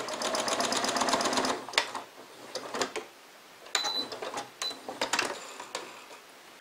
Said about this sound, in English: Now I'm going to sew it in place with a half inch seam allowance.